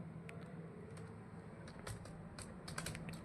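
Typing on a computer keyboard while entering questions in MS Word, a quick uneven patter of soft key taps, close and quiet over a steady low background hum.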